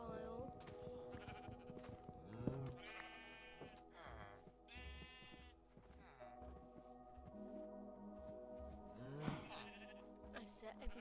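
Sheep bleat repeatedly in a farming video game, in short wavering cries at a moderate distance over a steady layer of game music and ambient sound.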